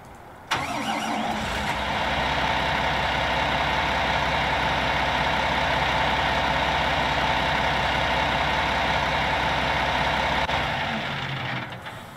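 Tractor engine in the video game Farming Simulator 19, starting up and running steadily at a loud, even drone for about ten seconds before easing off near the end.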